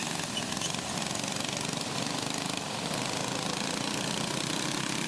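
Backyard go-kart engines at the start of a heat race, a dense, buzzy, lawnmower-like roar from several small motors running together, loud and continuous with no talking.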